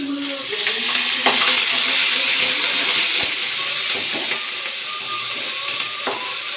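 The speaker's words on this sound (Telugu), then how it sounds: "తెల్లగడ్డ కరివేపాకే ఇప్పుడు ఇలా బాగా వేగింది" Garlic and curry leaves sizzle steadily in hot oil for a raw mango pickle, a dense continuous hiss with faint clinks and stirring scrapes throughout.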